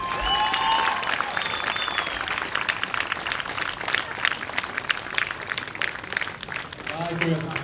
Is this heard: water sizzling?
no